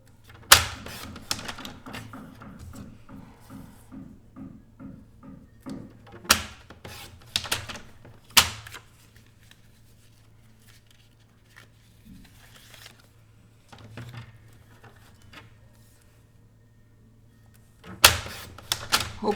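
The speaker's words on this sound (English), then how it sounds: "I'm going to cut these to 2 3/4 by 2" Paper being cut to size for a craft project: a series of short, crisp snips and clicks, close and fairly quiet, with gaps between cuts and a low hum underneath.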